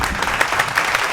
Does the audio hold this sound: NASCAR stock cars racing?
no